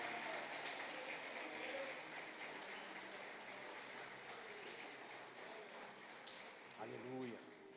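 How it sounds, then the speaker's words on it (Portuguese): A church congregation applauds in a continuous wash of clapping, fairly faint and diffuse across the hall, slowly tapering, while a voice speaks briefly near the end. "Você pode aplaudir ao Senhor?"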